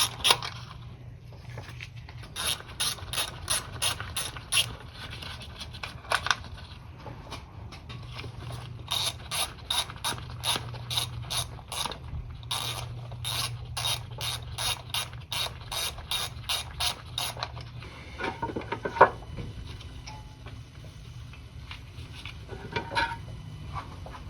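A ratchet wrench removes the 10 mm valve cover bolts on a 1988-1992 Toyota Corolla 4A-F engine, giving long runs of rapid, crisp clicking strokes with short pauses between bolts.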